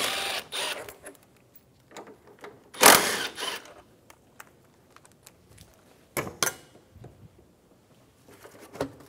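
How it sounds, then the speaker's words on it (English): A wrench removes the two 10mm airbox bolts on a 2007-2012 Nissan Altima, giving short mechanical rattling bursts with a couple of loud, close clatters amid quiet pauses. "Remove the two 10mm bolts for the airbox"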